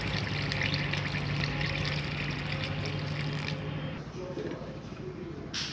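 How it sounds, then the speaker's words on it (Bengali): Water poured into a pot of desi chicken curry with potatoes, a steady close gush that runs for several seconds and then stops, leaving a quieter background. "ঝোলের পানিটা দিয়ে নিচ্ছি আমি।"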